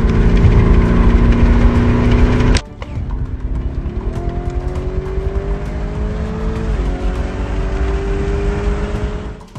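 A car engine roars loudly, then cuts off abruptly and gives way to a steady droning motor whose pitch slowly rises and shifts as the vehicle pulls back and drives away on the road.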